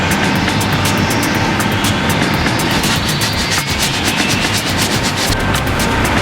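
Car body filler being block sanded with 80 grit sandpaper during dent and scratch repair, a loud, steady rasping scrape with repeated back-and-forth strokes close by and no talking.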